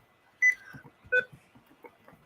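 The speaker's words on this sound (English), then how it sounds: "What is that beeping?" Short electronic beeps, two louder tones spaced about a second apart, then fainter blips, heard in a room while people chat quietly in the background.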